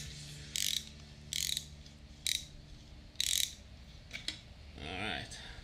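Top bolt being unscrewed from a Honda Shadow motorcycle fork leg, several short bursts of metallic ratchet clicking with pauses between, close and fairly loud over a low steady hum, ending in a softer scraping sound.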